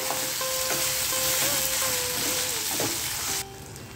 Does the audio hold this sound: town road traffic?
no